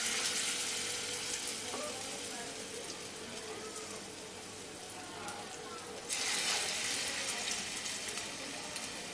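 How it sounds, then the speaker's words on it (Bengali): Banana stem koftas frying in plenty of hot refined oil in a wok, a dense continuous sizzle like rain that swells louder near the end. "কোফতাগুলোকে ভাজার জন্য আমি কড়াইতে রিফাইন তেল দিয়ে দিয়েছি একটু বেশি করে,"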